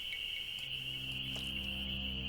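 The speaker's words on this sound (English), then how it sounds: "Those insects are loud." Insects chirp steadily in a Nancy Drew video game, a continuous high-pitched buzzing drone with a faint low hum beneath, loud and unbroken throughout.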